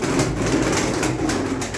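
Tumbler pigeons coo in a brief, loud, close stretch of low, throaty calls, with no talk over them.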